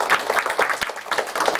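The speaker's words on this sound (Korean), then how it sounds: "우리 박수 한번 드리겠습니다." A church congregation applauds at a Sunday worship service, dense rhythmic clapping from many hands in a room, fairly loud and continuous for a short burst.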